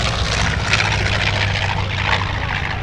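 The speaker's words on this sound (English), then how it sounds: "The German planes seem to be louder." German propeller warplane with a rotary-type engine flying over the Chino airshow: a loud, steady droning engine roar with a throbbing low rumble, close and continuous, no voices.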